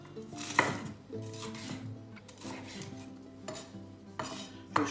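Knife chopping vegetables into thin, long julienne strips on a board while preparing a Turkish-style chicken and vegetable sauté, with several sharp cuts and clatters among quieter taps and some kitchen clinks of utensils.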